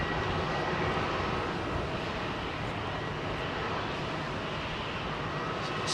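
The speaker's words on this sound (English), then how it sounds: "we got a 767 pushing back for start" A Boeing 767 pushing back for start at Heathrow, its engines and auxiliary power giving a loud, constant broadband roar close by, unbroken and even throughout.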